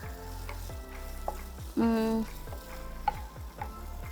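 Curry leaves fry in a pan for homemade Pachchaperumal rice. A close, steady sizzle is broken by repeated rhythmic stirring scrapes and one brief tonal squeak partway through.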